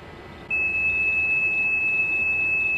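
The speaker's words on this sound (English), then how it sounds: "the computer makes a long, continuous beeping noise after everything has been erased" In Death Note, a computer gives one long, continuous electronic beep that starts abruptly and holds a steady tone over a soft background hum until the end, with no talking.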